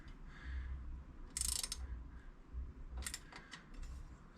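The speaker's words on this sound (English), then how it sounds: "So just starting to tighten this one up, and it is set to 12 Newton meters." A torque wrench set to 12 newton metres tightens a 5 mm hex bolt on a bicycle, giving two short bursts of rapid ratchet clicking against a quiet low hum, close and fairly faint with no speech.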